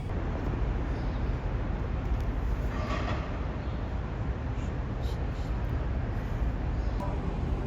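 Chicago L train, a 5000 series Bombardier car, pulling into an elevated Loop station, with a steady loud rumble of wheels and rails holding throughout and a brief screech of metal partway through.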